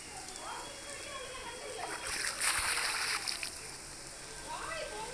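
Water runs steadily from a pipe into a bucket, giving a continuous close splashing hiss that swells louder midway, with a voice talking faintly in the background.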